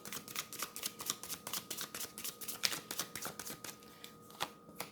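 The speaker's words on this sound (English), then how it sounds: "Let's just pull more cards here. Let's get some clarifying cards." Tarot cards are shuffled and pulled by hand in a quiet room: a fast, regular run of crisp riffling snaps and soft flicks, close and fairly faint, with no talking.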